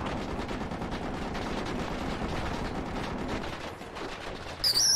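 Steady rifle fire from the video game Project Reality rattles on continuously at moderate volume, with a sharp louder burst right at the end and no talk.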